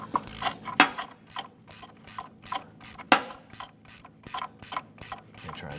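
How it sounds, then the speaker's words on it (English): A 14 mm gear wrench ratchets a nut off a Chevrolet S10 lower control arm, giving quick repeated clicking strokes in a steady rhythm, fairly quiet and close. "There's a 14 millimeter gear wrench."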